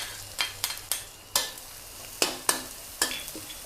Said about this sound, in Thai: เสร็จแล้วก็เอาเครื่องที่โขกไว้ค่ะ ใส่ลงไปผัด